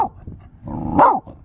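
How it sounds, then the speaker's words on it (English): A dog in the Arizona desert barks at nearby horses: a short close growl-tinged bark, then a louder drawn-out bark with a yelping rise, loud and alone. "She's barking at the horses that my neighbors have."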